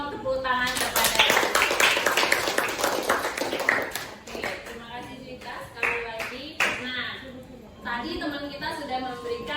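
Classroom clapping for a student during a teacher's coaching lesson, a brief burst of hand claps by a small group that thins into scattered taps, with a voice and other voices heard over it.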